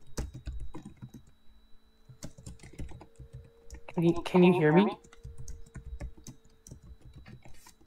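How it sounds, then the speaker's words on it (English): Computer keyboard typing, a steady patter of light clicks through the clip, with a voice speaking briefly in the middle. "I was just busy typing."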